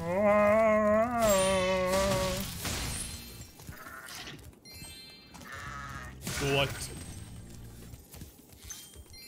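Goat bleating in the Spyro 2 Reignited Trilogy video game: a loud, wavering bleat up close at the start, followed by softer bleats and game sounds.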